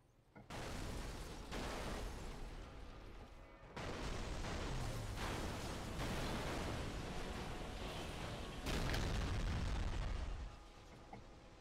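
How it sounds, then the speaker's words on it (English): Burnout 3 crash-mode pileup with a car exploding against a tanker: a run of loud, broad booming blasts and crunching roars, with a brief lull before further sustained explosive rumbling and a final burst. "I definitely exploded on the tanker a little bit."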